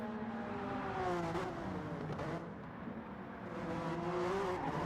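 Race car engine in the Gran Turismo 7 racing game, a steady loud drone with shifting pitch as the throttle comes on early and the rear steps out, ending toward a gravel trap, with no talk over it.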